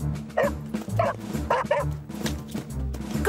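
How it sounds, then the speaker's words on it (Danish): A cartoon dog in an animated Fireman Sam episode barks in a series of short, sharp yips and bow-wows in quick succession, close and fairly loud. "Gå, hund."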